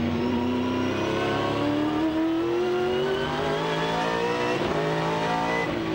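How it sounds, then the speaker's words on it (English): Pertec-backed Ford V8 Supercar racing at Phillip Island, its loud engine roaring steadily and rising in pitch as it accelerates, with a brief shift or lift near the end, close and continuous without talk. "Listen to the way that this Pertec Ford is throwing the power down."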